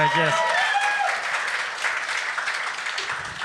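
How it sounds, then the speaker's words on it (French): An audience applauds with steady, dense clapping for several seconds, a voice heard briefly over the start. "Donnez-y une main d'applaudissement quand même."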